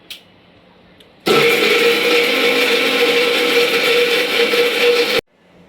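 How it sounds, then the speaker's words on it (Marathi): Kitchen mixer grinder grinding roasted coconut into paste, switching on abruptly into a loud, steady motor whine for about four seconds before cutting off sharply, with faint quiet moments before it starts. "आता हे भाजलेलं खोबरं आहे ना बारीक चिरून घेऊया आणि मिक्सरला वाटून त्याची"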